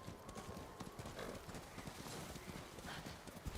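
Horse galloping in the video game Ghost of Tsushima, a steady rapid clip-clop of hooves that stays close and fills the whole stretch over a dense noisy game background.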